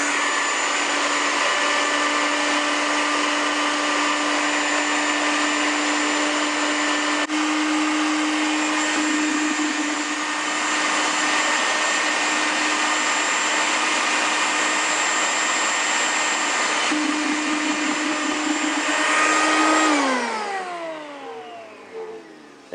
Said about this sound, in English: So for all my patties that I make, I grind my sugar.